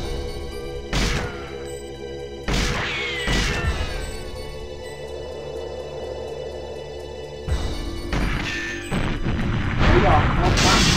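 Explosions in the retro shooter 007 GoldenEye, set in Severnaya: several heavy booms and crashes at intervals over a steady game background, with talk along the way.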